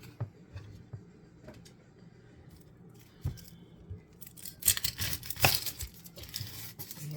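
A dull knife cutting vegetables on a board during lunch meal prep, with soft scattered taps early on, then louder rough slicing, crunching and rustling toward the end.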